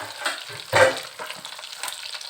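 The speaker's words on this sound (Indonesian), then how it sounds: "sekarang proses goreng menggoreng" Gourami and tilapia fish fry in hot oil, a steady close sizzle with crackles and one louder spattering burst, no talk.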